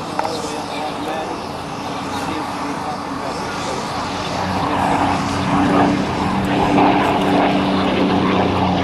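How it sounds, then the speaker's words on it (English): A Yakovlev Yak-9 propeller fighter flies a low airshow pass at NAS Oceana, its piston engine droning steadily and swelling louder as it approaches, with a crowd faintly audible beneath. "This Yak is about 3/4 of the size of a P-51 Mustang."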